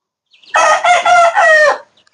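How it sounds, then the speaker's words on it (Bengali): A Juti rooster, a native hill chicken kept in a cage, lets out one loud, close crow of about a second and a quarter. The crow comes in three or four held, wavering segments, with silence around it. "এই যে একটা মোরগ, এটা হচ্ছে আপনার জুটি মোরগ"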